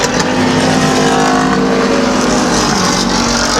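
Pure stock race cars at Midvale Speedway roar together in a loud, continuous pack, engines droning and shifting pitch as the field charges around the oval, with no talk over the din.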